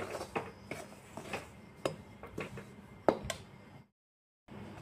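A spatula scrapes and taps against a pan as rice flour is turned over and dry-roasted for dry fish pitha. The clinks and scrapes come close and irregular, then a brief silence falls near the end.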